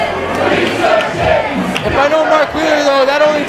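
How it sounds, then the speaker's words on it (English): A wrestling arena crowd jeers and shouts at wrestler Mark Wheeler, a loud, sustained roar of many voices with rising and falling chants throughout. "the crowd letting Mark Wheeler know what they think of him"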